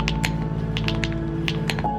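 Typing on an AULA L99 tri-mode keyboard, a run of crisp, close key taps at an uneven rhythm over a faint steady background hum.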